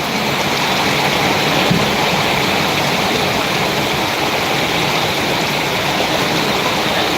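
Heavy rain pounding steadily on a tent house, a loud dense continuous roar with no letup and no voices.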